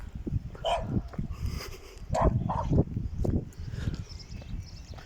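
A small dog gives several short yips and barks outdoors near a former playground, close by and scattered over a few seconds, with some movement and faint background voice.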